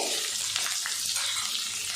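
Steady hissing sizzle of shallots and garlic frying in hot oil, close and continuous, with faint crackles and no talking.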